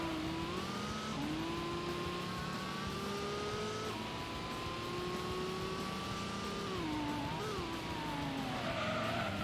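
Race car tires skidding and squealing with wheel spin in Gran Turismo, a loud continuous engine drone with sliding pitch and tire screech, alone without talk.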